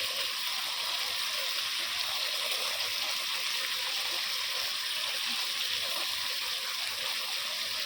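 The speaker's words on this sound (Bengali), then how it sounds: "হালকা জল দিয়ে দেবো।" Water is poured into a pan of lightly fried spice masala and gives a steady, continuous hissing rush throughout, with no voices.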